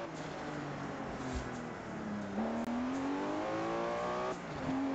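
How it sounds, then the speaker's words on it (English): Datsun car engine revving while driving, rising and falling pitch through gear changes, close and steady from inside the car. "never heard a Datsun sound like that, have you?"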